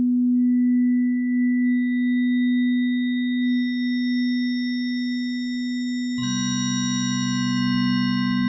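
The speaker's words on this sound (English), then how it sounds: "so we're playing just the sine wave on the left." Pure sine-wave tone from a Novation Peak synthesizer, a steady sustained loud note that swells into a richer, brighter sound near the end, with no other sounds around it.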